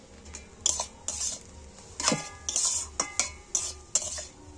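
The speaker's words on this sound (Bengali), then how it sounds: "গরম মশলাটা আমি একটু দিয়ে নাড়াচাড়া করে নেব।" A utensil stirs and scrapes garam masala through a dry vegetarian omelette curry in a pan, giving repeated close metallic clinks and scrapes in an uneven rhythm over a faint sizzle.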